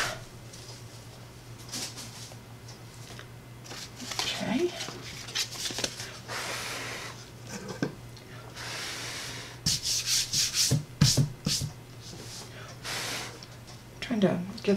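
Glue wiped off a craft work surface, soft rubbing and scrubbing strokes in uneven bursts, close and fairly quiet, with a steady low hum beneath and a few brief louder rubs near the end.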